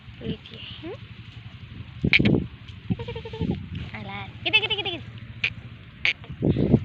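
Goats bleat on a farm, several short wavering calls scattered across the clip, with someone talking over them and some wind-like rumble underneath.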